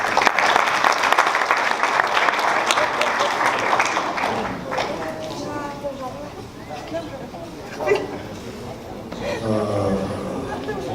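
An audience applauds a team being presented at a pub event, loud steady clapping over the first few seconds that thins into scattered claps, with voices and speech heard over the fading applause.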